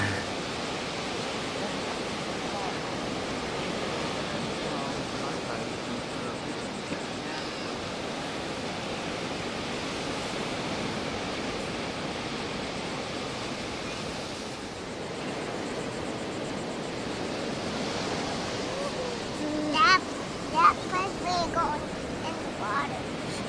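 Beach surf washing steadily ashore, a broad continuous roar with wind rumble over the microphone, fairly distant and even throughout, with a few faint brief sounds near the end.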